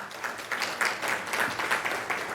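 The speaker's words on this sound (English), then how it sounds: "Can we give her a round of applause?" Audience applause at a State of the City address, a steady wash of many hands clapping from a crowd, moderately loud and sustained with no talk over it.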